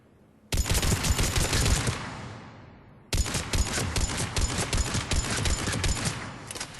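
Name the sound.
Mattock rifle firing, from the video game Mass Effect 3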